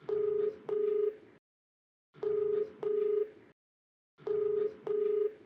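An outgoing phone call rings through, a clean electronic double-pulse ringback tone repeating three times with silent gaps between, heard alone.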